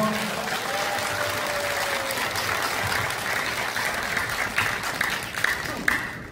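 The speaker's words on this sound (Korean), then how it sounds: "주철현 의원님과 김일희 여사님께 힘찬 격려의 박수, 응원의 박수 부탁드립니다" An audience gives sustained applause for Assemblyman Joo Cheol-hyeon at a political gathering, a dense clapping wash near the start that thins into separate sharper claps toward the end, with a faint tonal sound early on.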